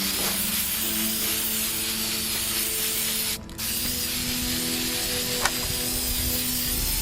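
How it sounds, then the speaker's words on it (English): Cheap black spray paint hisses from a can onto a stone wall prop, a loud continuous spray that breaks briefly for a pause before resuming. "go over the entire thing with a little cheap thing of black spray paint"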